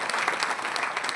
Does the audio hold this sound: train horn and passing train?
no